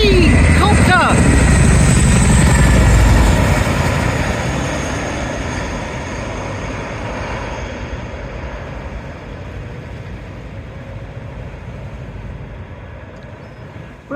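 A helicopter flies past, loud and near at first with a heavy rotor thump, then its roar gradually fades into the distance.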